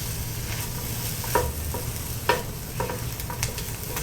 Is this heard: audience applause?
no